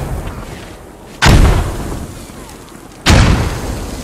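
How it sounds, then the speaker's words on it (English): Two loud, close mortar rounds from the video game Squad, each a sudden booming blast with a rumbling tail, landing about two seconds apart over a low steady background. "Hey, incoming mortars."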